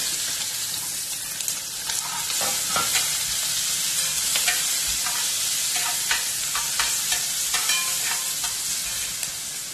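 Shallots fry in a pan for beef ularthiyathu, a continuous bright sizzle with repeated spoon taps and stirring scrapes close by, no talking.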